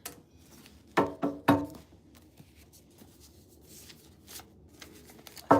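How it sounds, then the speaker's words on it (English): Tarot cards are shuffled by hand in a few quick, close riffling bursts, followed by quieter soft handling noises. "I feel like I need to shuffle these cards a little bit."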